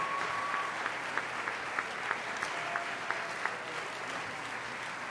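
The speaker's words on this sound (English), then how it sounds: "for a round of applause from us." An audience gives a warm round of clapping for the parents of school band members at a 2003 Jefferson Connection show, steady applause with a few sharper claps standing out, fairly distant and soft.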